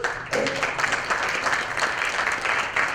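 An audience at a jazz night applauds the ensemble musicians, a steady wash of clapping that swells in after a brief pause and holds evenly throughout.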